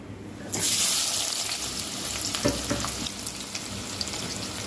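Thawed frozen chicken pieces are rinsed under a running tap, a sudden steady rush of water starting after a short pause, with splashing and handling knocks as the pieces are rubbed clean.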